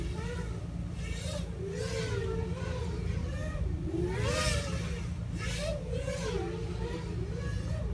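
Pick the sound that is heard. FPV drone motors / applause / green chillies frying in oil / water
FPV drone motors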